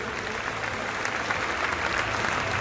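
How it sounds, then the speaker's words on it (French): Sustained audience applause fills an awards evening honouring gastronomy and wine prize winners, a dense steady wash of clapping with no voices over it. "un tonnerre d'applaudissements pour les lauréats et les remettants de cette soirée"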